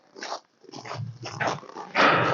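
A French Bulldog gives several short barks and growly yaps in quick bursts, fairly close, with brief pauses between them and no talking.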